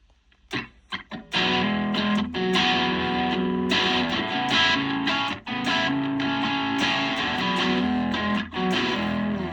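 An electric guitar runs through the delay effect of a Donner Arena 2000 multi-effects pedal: a few plucked notes, then sustained strummed chords with echoing repeats that ring continuously and fairly loudly, with brief dips between phrases.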